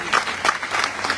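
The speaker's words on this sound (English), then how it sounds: "Give you a big round of applause." Audience clapping at a Coalition for Democratic Change political gathering in Liberia, a steady, dense wash of many hands applauding close by throughout the short moment.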